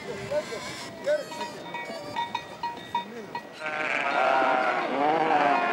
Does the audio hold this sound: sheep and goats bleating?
yes